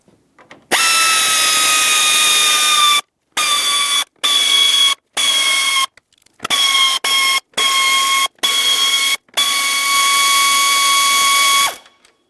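A power tool whines in repeated bursts while removing 5.5mm screws along the front under the hood of a Ford Flex, with a long run at the start, several short stop-start pulses, then a long final run, loud and close.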